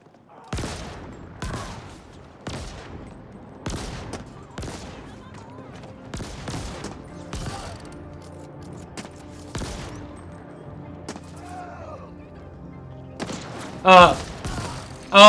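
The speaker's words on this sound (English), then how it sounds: "I'm liking this pistol. I mean, it's like a fiery railgun, but I guess it's a pistol." Fiery railgun-like pistol fired in a video game, about a dozen sharp, loud shots spaced roughly a second apart, with a louder burst of crackling near the end.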